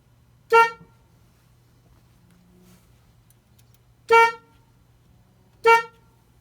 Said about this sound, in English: So this is what happens when you press the horn.